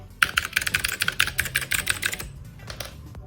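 Rapid, loud clicky typing on a compact 60% mechanical keyboard with blue switches, sharp, crisp keystrokes in a steady burst, pausing briefly before a few more presses.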